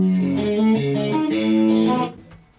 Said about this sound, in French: Quand on entend ça, souvent c'est chorus.